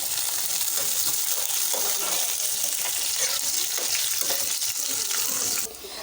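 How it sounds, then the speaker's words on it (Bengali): Onions and green chilies frying in a pan give off a loud, dense sizzle that holds steady throughout and drops away sharply right at the end. "পেঁয়াজ মরিচ সব ভাজা হয়ে গেছে"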